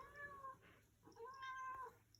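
A cat meows several times, soft and fairly close, its drawn-out cries alone with no talk, near creosote.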